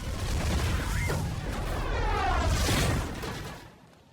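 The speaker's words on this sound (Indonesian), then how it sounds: "tangki bahan bakar di dekat sana meledak dengan sangat keras" A fuel tank explodes in a film scene with a loud, dense roar of booming blasts and crackling debris that holds for about three seconds and then fades.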